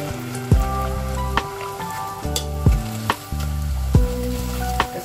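Glutinous rice cooked with sugar bubbles and sizzles in a pan at close range, a steady crackle broken by several sharp thuds and clanks from a utensil.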